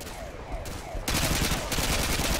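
Rapid automatic gunfire in Call of Duty Modern Warfare 2 crackles in dense bursts, growing louder and more continuous partway through, close and sustained.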